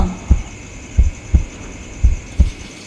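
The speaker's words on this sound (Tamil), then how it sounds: "ஹார்ட் பீட்லாம் சும்மா" A heartbeat sound effect thumps five times in a steady, slightly quick rhythm, each beat a deep, loud low thud over a faint hum.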